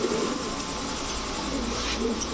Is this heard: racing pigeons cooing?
yes